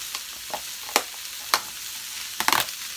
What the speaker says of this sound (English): So just going to get those a little bit stir fried off.